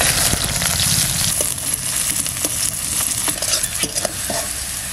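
Onions fry in mustard oil with black cumin in a hot kadai, a close sizzle punctuated by sharp metallic clinks and scrapes as a spatula stirs them, no voices.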